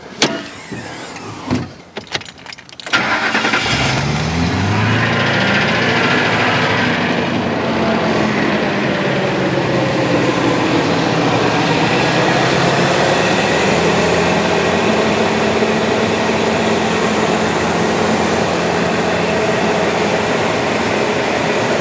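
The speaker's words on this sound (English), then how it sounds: "start up the engine and let you listen to it" A 2004 Ford F250 fires up after a few clicks and clunks, then runs at a steady idle for about twenty seconds, a constant close rumble with no talking.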